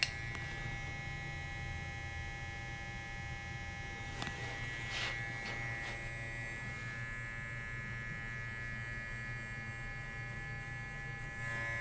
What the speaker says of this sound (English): now I'm going to start rocking the clipper back down until it's riding flat